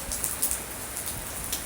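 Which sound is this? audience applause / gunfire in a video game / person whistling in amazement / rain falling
rain falling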